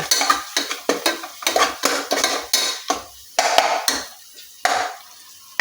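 A spoon stirs ginger garlic paste in a cooking pot while biryani is being made, giving repeated scraping strokes with a light sizzle. The strokes come in a steady rhythm, loud and close, with no talk over them.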